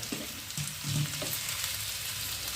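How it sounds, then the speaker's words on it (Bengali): Chicken fried rice with spring onion being stir-fried, giving a continuous close sizzle with a few scraping stirs of the spatula against the pan in the first second. "স্প্রিং অনিয়ন দেওয়ার পর ভালোভাবে নাড়িয়ে নেওয়া হচ্ছে।"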